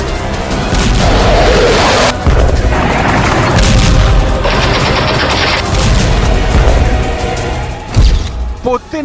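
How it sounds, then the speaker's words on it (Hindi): A loud, rumbling blast with a dense, sustained roar and crackling debris, followed by further heavy impacts; continuous and close, filling the whole stretch. "एक जोरदार धमाका हुआ।"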